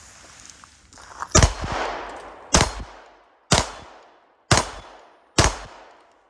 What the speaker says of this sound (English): Let's put a couple rounds through this and then immediately a couple rounds through the other gun.